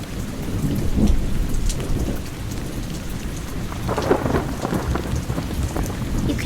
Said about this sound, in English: Scary Thunder.